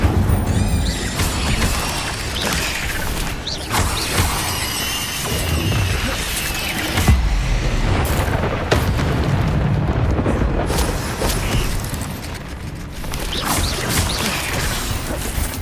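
Fire spell being cast in the Hogwarts Legacy video game, heard as loud, dense roaring bursts and crashing impacts that continue without a break through a busy combat soundscape.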